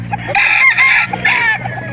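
Roundhead gamefowl rooster at a game farm crowing once, close and loud, its raspy call rising and breaking into drawn-out segments over faint background noise.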